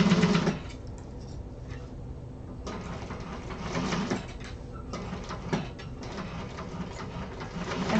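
A sewing machine runs steadily while stitching a seam, with a continuous close mechanical hum and brief pauses between runs.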